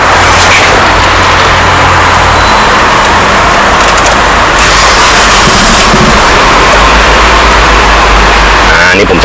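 A 2009 Nissan Tiida 1.8 G hatchback with automatic transmission has its engine started and settles into a loud, close idle rumble that runs continuously.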